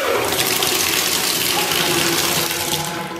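Water from a tap pours steadily and loudly into a freestanding tub set on a travertine tile floor, with a constant splashing rush throughout and no voices over it.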